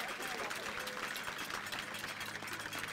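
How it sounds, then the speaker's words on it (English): A stadium crowd at an FC Kansas City vs. Seattle Reign FC soccer match applauds youth soccer referees, a faint, distant wash of clapping and crowd noise that stays fairly steady throughout. "So please help us show our appreciation to these folks with a big round of applause."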